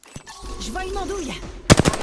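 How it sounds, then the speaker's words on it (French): Gunfire erupts in the video game Apex Legends, a quick burst of several sharp shots near the end, following a stretch of game sound effects and tonal cues. "Je me fais tirer dessus"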